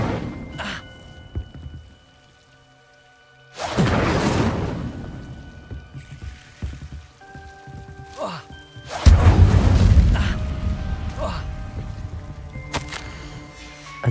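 A fire spell cast in Hogwarts Legacy erupts as a loud whooshing burst of flame with a deep rumbling roar, starting abruptly and swelling again later over a bed of game ambience and music.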